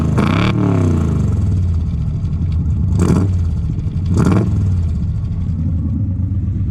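A 1968 AMC Javelin with a 343 engine and four-speed, warmed up, idling steadily and loud up close, with a few sharp throttle blips that rise and fall over the continuous rumble.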